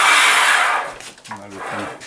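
A Rubi HIT-1200 Plus manual tile cutter scores a long tile with a loud, rushing scrape that fades out after about a second, followed by someone speaking.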